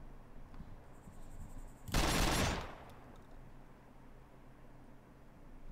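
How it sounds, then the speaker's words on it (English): An AA-12 shotgun loaded with explosive rounds in ArmA 2 DayZ lets out a single loud, broad blast lasting under a second, with quiet ambient noise before and after. "Gonna fire some AG rounds with the AA-12. See how far these things actually explode."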